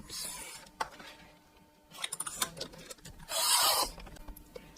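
Sizzix paper trimmer blade sliding along paper in several short rasping strokes, close and fairly loud, with a longer sweeping cut near the end and quiet pauses between.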